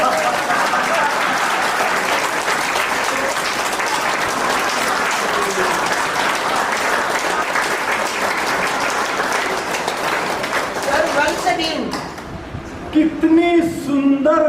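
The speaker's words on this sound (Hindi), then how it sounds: "अपने लिए एक ताली बजा लो।" Sustained audience applause at a spiritual gathering, steady loud clapping from a crowd lasting about twelve seconds before tapering off, followed by faint voices and room sounds.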